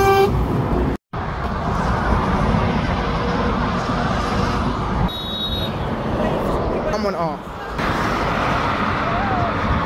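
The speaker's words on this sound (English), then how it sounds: "he had big air horns on that" Loud roadside traffic on a motorway with a truck air horn sounding in short blasts, engines rumbling close by and a brief dropout near the start.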